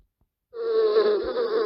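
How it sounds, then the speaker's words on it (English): A bee buzzes from an animal sound app, a steady, close droning hum that starts abruptly after brief silence and wavers slightly in pitch. "Bee."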